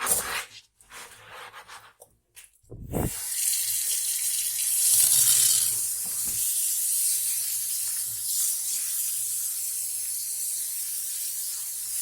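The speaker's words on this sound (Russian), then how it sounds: "Для начала я его просто помою под водой." After a few sharp clanks, running tap water pours steadily onto a rusty frying pan being washed in a sink, a continuous hissing splash that shifts as the pan moves under the stream.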